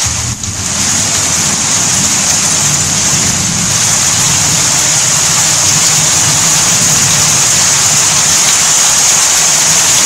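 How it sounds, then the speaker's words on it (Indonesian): Steady rain falls in a continuous, loud hiss that holds evenly throughout, with no breaks and no voices. "Nah, hujan."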